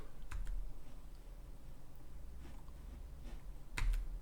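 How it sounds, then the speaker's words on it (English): Mouse clicks and a Q key press on a computer keyboard while working in 3D modelling software, a few sharp isolated clicks spaced out over quiet room tone, with a louder tap near the end. "we're going to click on this guy, and then we're going to shift click on the solid, and we're going to hit Q on the keyboard"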